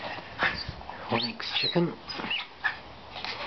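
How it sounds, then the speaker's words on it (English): An excited puppy that has just killed a chicken whimpers and yips in short, high squeaks scattered through the clip, close by, with someone talking over it. "One very excited little puppy."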